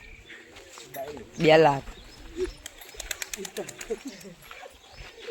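Pigeons coo and birds chirp on a horse farm. A loud close coo rises briefly and is followed by quieter scattered chirps and calls. Someone talks over part of it.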